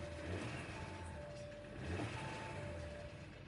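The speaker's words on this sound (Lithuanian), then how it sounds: "Variklis kažkokį tai išduoda garsą." A 2019 Audi A6 3.0T Premium Plus 55 TFSI engine idles with an odd noise: a steady, close, low rumble with a faint thin whine riding on top, and no talk.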